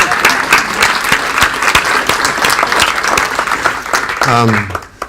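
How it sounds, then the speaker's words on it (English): Audience applause at a talk, sustained clapping from a large crowd of listeners, with a voice speaking over it briefly as it fades out. "Oh yes, let's clap."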